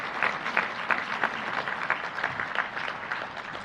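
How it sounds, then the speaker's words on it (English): Banquet guests at the New Mexico Sports Hall of Fame 2023 dinner applaud an honoree with a brief, moderately dense round of clapping, steady and close, with a soft room murmur beneath it. "Let's give Lisa another round of applause."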